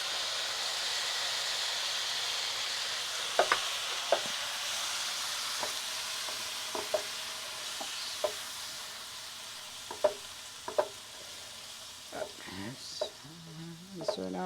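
Two minced tomatoes frying in a pan, giving a steady soft sizzle throughout with scattered scraping stirs of a utensil and a few light clinks, close and moderately loud.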